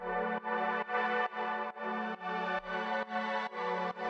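A warm, sustained Serum synthesizer pad in a speed garage track, playing rhythmic chords that pulse on and off in even repeating steps, full and smooth, with no voices.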